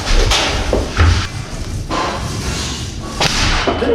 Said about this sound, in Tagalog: Ganun yung epekto ng nail gun.